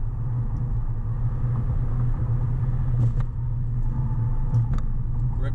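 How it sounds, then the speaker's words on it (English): A 2002 Jaguar S-Type with a 3.0 V6 drives along, its engine and road noise forming a steady, low, continuous rumble heard from inside the car, with a few faint clicks and no talk. "mic'd up, so you can hear the sounds of the vehicle here"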